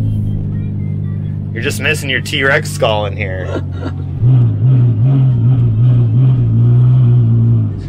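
A Ferrari F12 with a full FI exhaust system idles with a deep, steady engine drone that swells louder in the second half, while someone talks over the start.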